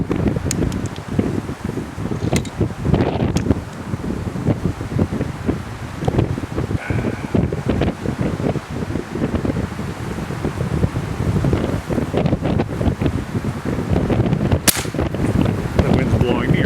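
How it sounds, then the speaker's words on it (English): Outdoor wind buffets the microphone in a steady roar throughout, with occasional sharp cracks from a Girardoni (Girandoni) air rifle being fired nearby. "The wind's blowing me around now."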